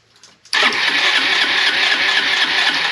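A Honda Reflex 250 scooter engine cranks briefly and catches, jumping at once into a loud, steady, buzzing idle up close that carries on to the end.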